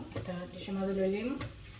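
Shrimp shutki (dried shrimp) frying in a pan for a bhorta, giving a steady close sizzle with soft stirring scrapes throughout, no talk over it.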